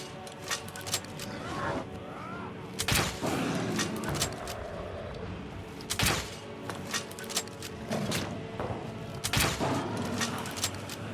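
Crossbow bolts fired in Skyrim, several sharp separate shots spaced a few seconds apart over a quiet game background, each a crisp snapping release.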